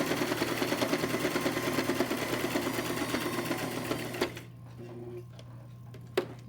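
A sewing machine stitching fabric runs in a fast, even, rattling rhythm for about four seconds and then stops, leaving a faint whir and a few small clicks as the needle is lowered and the fabric turned.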